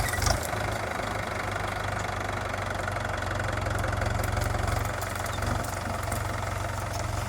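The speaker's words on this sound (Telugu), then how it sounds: "గడ్డి ఉన్నదేమో ట్రాక్టర్ పడేయలేకపోతుంది అనమాట, జారిపోతుంది." A tractor engine runs steadily with a low, knocking idle-like chug, close by and continuous, as it works across a thick grassy field.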